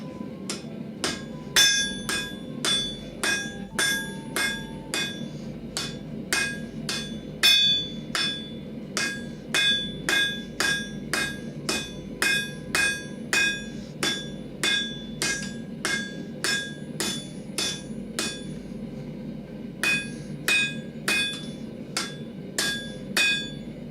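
A blacksmith hammers hot steel S-hooks for a firepit. Sharp, ringing hammer blows come in quick rhythmic bursts with short pauses between them, close and clear, with no talking.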